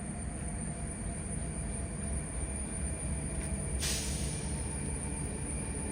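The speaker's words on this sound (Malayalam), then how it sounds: "ഹസ്രത്ത് നിസാമുദ്ദീൻ തിരുവനന്തപുരം സെൻട്രൽ രാജധാനി എക്സ്പ്രസ് ആണ് ഈ വരുന്നത്." The Hazrat Nizamuddin–Thiruvananthapuram Rajdhani Express pulls into Manjeshwar station in Kerala, with a steady low rumble of rolling wagons, thin wheel squeal and a brief hissing burst near the end, heard alone without voices.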